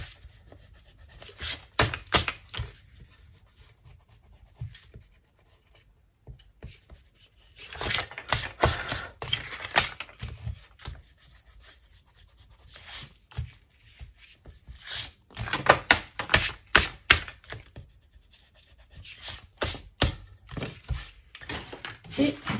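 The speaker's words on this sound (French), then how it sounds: "je vais à présent effacer un petit peu, enfin gommer mes traits" Pencil lines on a card being rubbed out with an eraser, heard as bursts of close, scratchy rubbing strokes separated by brief pauses.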